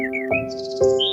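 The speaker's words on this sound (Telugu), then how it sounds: "ఏమిటి కాకి ఇలా అరుస్తూ ఉంది?" A crow calls in a children's story sound effect, two bursts of bright chirping over a steady tonal backdrop.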